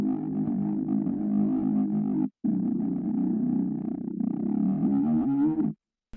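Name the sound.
saw synth bass with gliding notes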